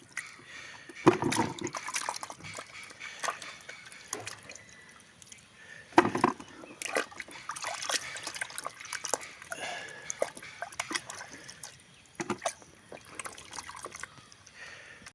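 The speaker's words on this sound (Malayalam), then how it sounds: "കഴുകി ഓരോന്നിടാം." Black tamarind pieces being washed by hand in water, with light irregular splashes, trickles and drips. The sound stays close and fairly quiet, with a few louder sloshes.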